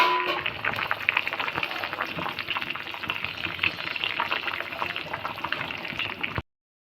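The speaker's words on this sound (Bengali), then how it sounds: "তো এইটা আমাদের ঝোলটাও ফুটে এসেছে, আলুটাও সেদ্ধ হয়ে গেছে।" Egg and potato curry gravy, Bangladeshi style, boils in a pot with a steady, dense bubbling and simmering hiss that runs unbroken and fairly close, with no talk over it.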